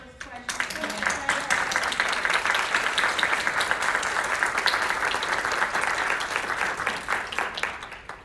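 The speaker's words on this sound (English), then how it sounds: "Let's give them one more round of applause." Audience at a Women in Government panel breaking into sustained applause after the questions, loud dense clapping swelling quickly and holding steady for several seconds before tapering off.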